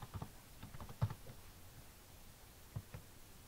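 Keystrokes on a computer keyboard while a password is entered, a few soft, scattered taps spread over a few seconds, faint and close with a quiet background and no voices.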